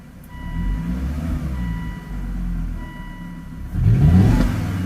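A Volvo S60R engine, running rough, hums unevenly, then revs up sharply near the end with a rough, uneven growl.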